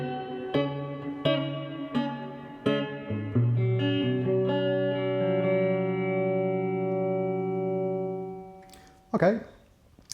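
Clean guitar chords ring out through a Roland JC-40 Jazz Chorus amplifier with the reverb turned all the way up, several plucked strums followed by a long sustained chord whose tail slowly decays, then a brief scrape at the end.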